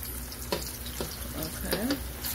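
Ripe plantains fry in a pan over medium heat with a steady, close sizzle, and a few light clinks and scrapes of a utensil stirring or touching the pan.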